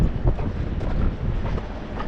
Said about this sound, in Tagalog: Ay, medyo malakas ang hangin.